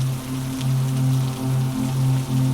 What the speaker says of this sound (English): The rain had grown heavier now. A steady silver curtain fell across the French Quarter